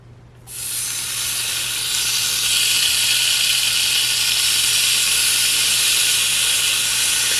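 Bacon and an egg cook in a Nostalgia MyMini sandwich maker. A loud, steady sizzling hiss with steam starts abruptly and holds evenly throughout, with no talking.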